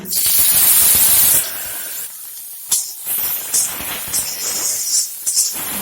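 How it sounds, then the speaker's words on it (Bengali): Onion and green chili hit hot oil in a pan with a loud rushing hiss that settles after a second into a quieter sizzle, punctuated by clacks and scrapes of stirring, close up and without talk. "এখন আমি পেঁয়াজ আর কাঁচা লঙ্কা দিয়ে দিব একটু ভেজে নেব"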